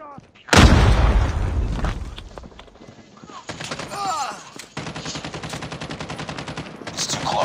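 In Call of Duty gameplay a loud frag grenade blast bursts out early, followed by voices and then sustained rapid automatic gunfire in a steady rattle through the rest of the clip.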